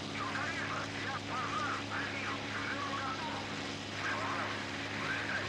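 Aeroplane flying in the IL-2 flight game, a steady droning propeller engine holding at full power throughout, with talk over it.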